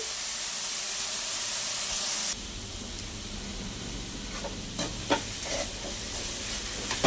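Drumstick curry with tomatoes cooks in a pan with a loud, steady sizzle that drops to a quieter simmer partway through. A few sharp stirring clinks come near the end.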